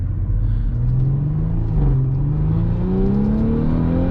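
A 2018 Audi SQ5 performance SUV engine on a test drive, a steady close rumble with the pitch climbing gradually as it accelerates, loud and continuous without talk.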